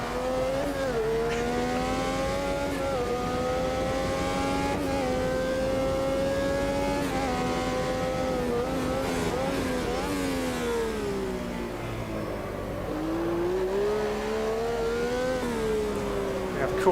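The Brabham BT46 race car in Automobilista 2, its engine holding a steady high-pitched drone that rises and falls with revs through shifts and corners, continuous and close throughout, with faint commentary underneath.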